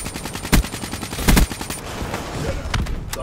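KN-44 assault rifle fire in a video game, heard as rapid automatic bursts with a few louder, punchier shots standing out over a continuous crackle of gunfire.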